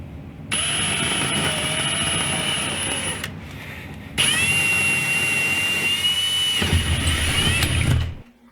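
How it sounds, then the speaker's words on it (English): A loud, steady high-pitched whine of a power drill boring a locating hole through a table saw extension table, a pause of about a second, then a second longer run with a rougher low rumble near the end. "drilling a locating hole through the table"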